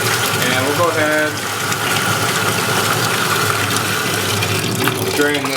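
Water gushing steadily as it drains out after rinsing dyed handpainted roving, a continuous loud rushing flow with a person talking over it.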